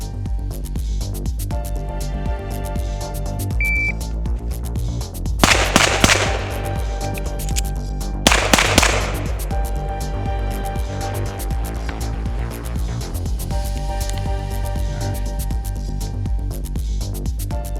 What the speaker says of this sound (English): On the beep, I'm going to turn, fire 3 rounds to the left, reload, 3 rounds to the right.